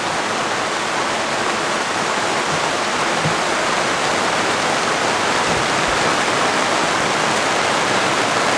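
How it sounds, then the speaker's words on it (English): Heavy rain pours down on a boat in a dense, unbroken hiss that stays loud and steady throughout, with no voices. "Pouring down rain."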